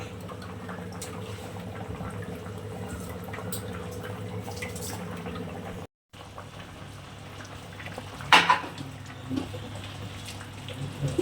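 Soft simmering and bubbling of salted water with rice in a pot for biryani, a low steady bubbling hiss with a brief gap and a couple of small clinks.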